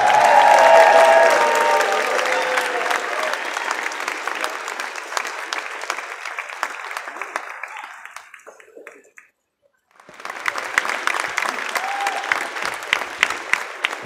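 An audience at a speedcubing championship applauding the Pyraminx champion: loud crowd clapping with cheers that fades to near silence, then a second burst of steady clapping.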